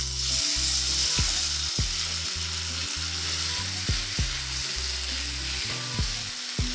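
Tomatoes and garlic frying in a pan for chips masala, a steady close sizzle with occasional light clicks of a stirring utensil and a low droning hum underneath.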